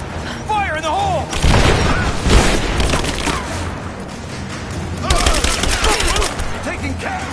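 In the Rise of the Tomb Raider video game, a grenade blast booms, then rapid gunfire bursts rattle close and loud, with shouting voices mixed in.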